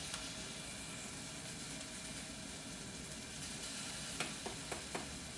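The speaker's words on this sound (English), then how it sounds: "We have our onions and our ginger cooking" Chopped onions and ginger sizzle in a hot pan for a tofu rice bowl, a steady, even frying hiss throughout with a few light clicks near the end.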